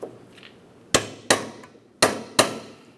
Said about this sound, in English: we'll give them a couple loving bonks to drive the splined area into the bracket